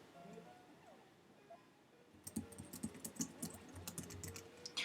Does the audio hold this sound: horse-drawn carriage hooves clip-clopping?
no